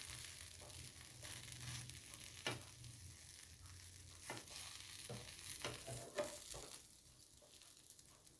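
An aloo bread cutlet shallow-fries in a pan, pressed and flipped until golden brown. A steady close sizzle runs throughout, broken by several sharp scrapes and taps as the cutlet is pressed and turned.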